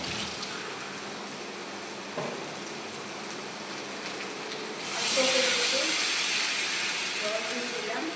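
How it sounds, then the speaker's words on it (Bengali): Water poured onto a hot pan while cooking Mughlai paratha, a sudden loud sizzling hiss that bursts in partway through and slowly eases after a quieter stretch of low frying noise. "এবার এটা আমি জল দিয়ে দেবো।"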